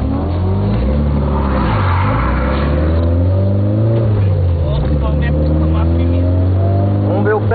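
Inside a car on a hard run, a loud, close engine revs up in several rising surges with brief drops between gear changes, holding a strong growl throughout.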